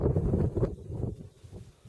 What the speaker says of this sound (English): That wind is really starting to piss me off because it's gusting.